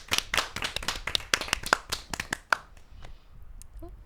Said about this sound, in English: Let me give a round of applause.